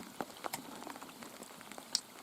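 Rain falls during a spinning-rod and side-rod fishing trip, with scattered, irregular drops pattering close to a soaked camera and a few sharper taps standing out against a quiet, steady background.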